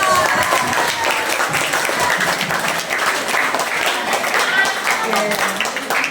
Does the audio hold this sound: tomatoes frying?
no